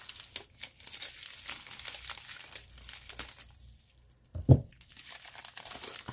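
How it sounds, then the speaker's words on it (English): Art supply packaging is cut open and handled, giving soft crinkling and rustling of plastic wrap in small bursts, with one sharper, louder crunch near the end in an otherwise quiet room. "I will cut these open very carefully."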